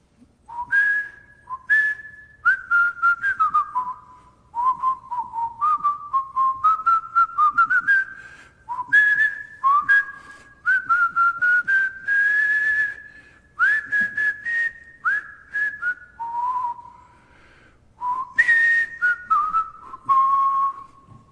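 A person whistles a song tune alone, with clear melodic phrases that rise and fall in steady runs separated by brief pauses, close and moderately loud.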